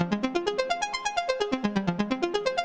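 A dreamy synth arpeggio with no effects added ripples through quick, evenly spaced plucked notes that rise and fall in a repeating pattern, bright and dry, with no voices.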